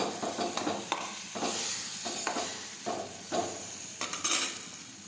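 Spices sautéed in a pan for a banana curry, with steady sizzling and hissing broken by repeated metal scrapes and clinks of a spoon stirring against the pan, close and fairly loud.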